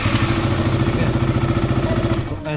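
A KTM motorcycle with a high coolant temperature fault and suspected ECU problem idles steadily and loudly up close, its engine throbbing in an even rhythm before cutting off abruptly near the end.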